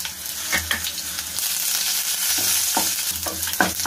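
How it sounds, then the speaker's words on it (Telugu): Spices, garlic and curry leaves sizzle in hot oil as tempering for a cluster bean fry, with a steady crackling fry punctuated by a few stirring scrapes. "చూడండి, తాలింపు చక్కగా వేగింది కదా"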